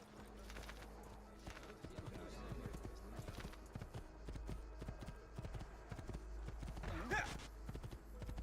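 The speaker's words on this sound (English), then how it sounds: "I need my horse." Steady clip-clop of horse hooves trotting at an even pace in Assassin's Creed 2, mixed with other low background sounds.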